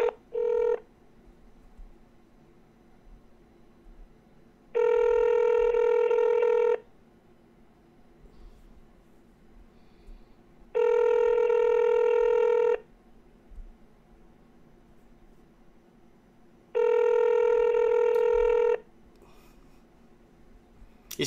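An unanswered outgoing phone call rings three times in evenly spaced, long electronic tones, with quiet gaps of room hiss between them.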